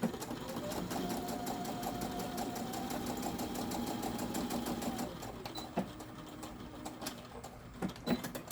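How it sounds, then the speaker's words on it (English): A sewing machine runs a seam on a small carry-all bag, a steady close whirr for about five seconds, then short stop-start bursts as it backstitches to lock the stitches. "Don't forget to backstitch as you're doing these so that you reinforce your starting and ending stitches"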